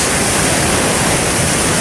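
Low Force waterfall near Middleton in Teesdale roars in a dense, steady rush of falling water, loud and unbroken throughout with no voices.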